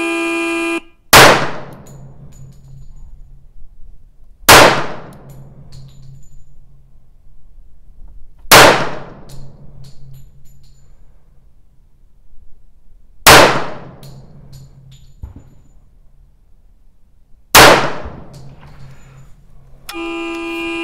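Five loud gunshots fired at a target on an outdoor shooting range during a timed string, each a sharp crack with a ringing decay, spaced a few seconds apart with no talking.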